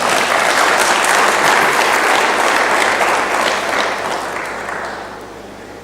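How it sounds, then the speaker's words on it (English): A civil society conference audience in Gaborone breaks into loud, dense applause, a sustained roar of many hands clapping that slowly fades toward the end. "Can't we clap for this?"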